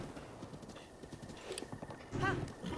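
Horse hooves clip-clopping at a trot in Zelda: Breath of the Wild, a quiet rhythmic patter with a brief whinny-like call near the end, heard faintly beneath game ambience.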